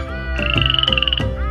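A single frog croaking up close: a short burst of rapid, rattling, trilled croaks lasting about a second, loud and alone.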